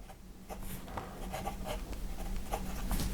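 A Monteverde Prima fountain pen with a steel nib scratches softly across paper in short, quiet strokes and taps, close up and alone.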